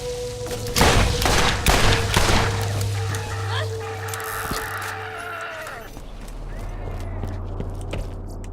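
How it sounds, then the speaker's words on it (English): Iridian cannon weapon firing in the video game Borderlands, a string of heavy booming shots and thuds with a low droning hum, loud and close over game ambience. "Looks like an Iridian cannon."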